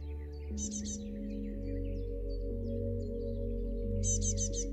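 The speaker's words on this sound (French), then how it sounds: "tu entends les oiseaux" Birds chirp and tweet in trees during a calm outdoor scene, with short bright trills near the start and again near the end over a low, steady background hum; no one speaks.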